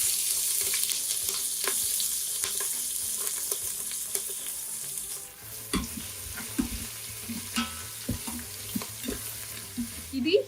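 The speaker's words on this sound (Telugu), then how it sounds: "ఆనియన్స్ కూడా ఫ్రై అయిపోయాయి." Chopped onions cut into large wedges fry with cumin and curry leaves in a hot pan, making a steady sizzle with stirring scrapes. Light clatter and a few tonal notes come in toward the end.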